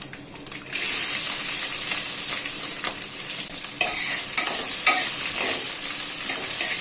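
Chopped garlic and ginger with coconut frying for a Kerala mutton roast, a loud, close, continuous sizzle that jumps up after a quieter first second, with repeated scraping stirs through it.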